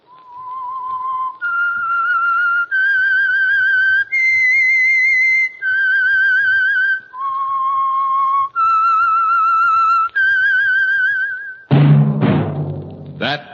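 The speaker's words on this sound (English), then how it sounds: "That whistle is your signal, the Whistler." A clear, loud whistled melody of about eight sustained notes, each held around a second with short breaks, then ending in a burst of other sound.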